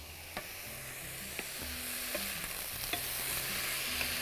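Saj bread frying in ghee on a saj pan, a steady soft sizzle and hiss with occasional light scraping and stirring taps over it, close by, no talking.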